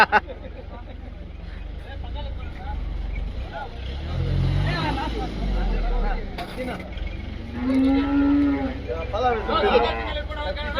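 Cattle low at a busy rural cattle market in Chinthamani, one long deep moo rising amid crowd chatter, people talking, and a passing vehicle.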